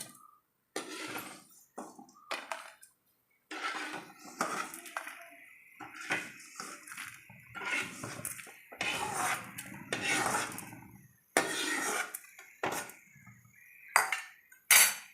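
Roasted chili and coriander being scooped from a pan for varutharacha sambar: repeated scraping and clinking of a metal spoon against the pan, irregular bursts close by with brief pauses, no voices.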